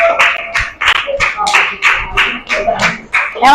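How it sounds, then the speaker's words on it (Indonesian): Schoolchildren in a classroom clap together for a group that has just finished presenting, sounding as a dozen or so close, evenly spaced claps in a steady rhythm with a few voices mixed in. "tepuk tangan untuk kelompok"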